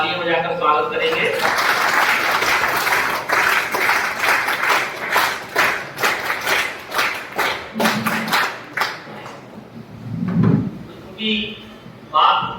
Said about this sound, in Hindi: उनको हम तालियां बजाकर स्वागत करेंगे।